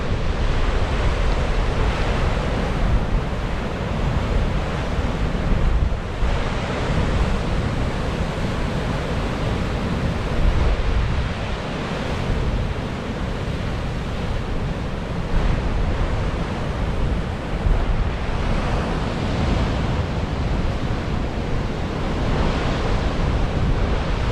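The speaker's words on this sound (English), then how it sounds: "Just amazing how these jagged rocks basically break up the waves." Atlantic Ocean waves crash and break over jagged rocks at Hartland Quay, a loud, dense, unbroken roar of surf with wind buffeting the microphone throughout and no speech.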